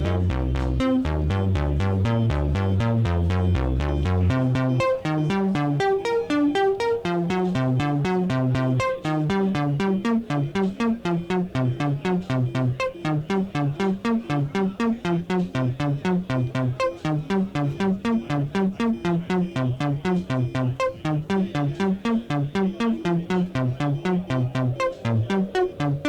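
Twisted Electrons Crazy 8 sequencer sending CV to an oscillator: a fast, repeating synth pattern of stepped tones, dense and steady, played alone.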